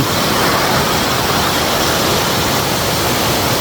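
Steady, loud roar of rushing water from Sarika Waterfall in Nakhon Nayok, Thailand, a constant broadband wash with no breaks.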